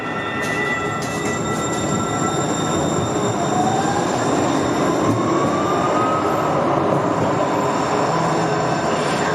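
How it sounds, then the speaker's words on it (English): A Cascades Talgo passenger train departs in November 2023 with a steady, loud rumble of rolling wheels and rising squeals from the rails, continuous throughout with no talk. "Let's see this train out, shall we?"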